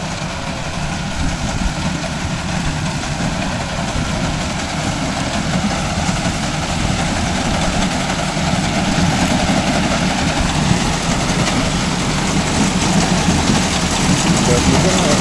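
A Mahindra Arjun Novo 605 DI tractor engine runs slowly at low revs, a steady loud rumble throughout while pulling a cutter in a field.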